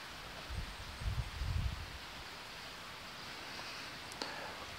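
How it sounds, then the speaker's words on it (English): Soft outdoor wind blows steadily with a faint leafy rustle. A few low gusty buffets hit the microphone in the first couple of seconds, then the wind settles into a quiet, even hiss. "Touch windy outside today."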